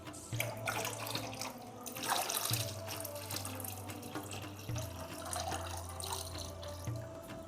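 Water pours steadily into a home fish aquarium, a continuous close splashing trickle like a running tap filling the tank, with no talking over it.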